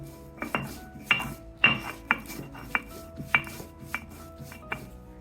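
Cumin and black pepper being ground by hand for chicken momo filling, heard as a steady series of sharp knocks and short scrapes, close and fairly quiet, with no talking.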